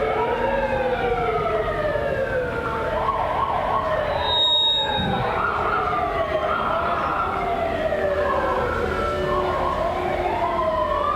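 A dozen or so fire trucks and ambulances in a 2002 gubernatorial inaugural parade in Trenton wail loudly at once, their overlapping rising and falling siren tones blaring continuously.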